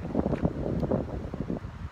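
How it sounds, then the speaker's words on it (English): Low, buffeting wind rumbles against the microphone in steady gusts, fairly faint, with no voices. "it's getting a little windy"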